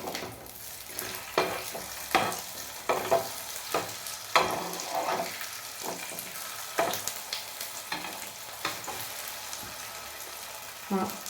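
Tofu pieces frying in a pan and being turned over, a steady close sizzle broken by repeated sharp clatters and scrapes of a utensil against the pan at irregular intervals.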